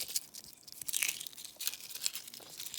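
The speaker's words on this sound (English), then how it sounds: "Let me show you how easy it is to peel the steamed eggs." Steamed eggs having their shells peeled by hand, giving quiet, irregular crackling and tearing sounds in a close, soft series with no talking.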